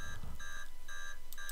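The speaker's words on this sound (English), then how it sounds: "It's doing the alarm clock sound again." The RedKey USB data-wiping tool plays its electronic alarm-clock tone, repeating bursts of bright beeping in a steady rhythm, loud and close, with no talking over it.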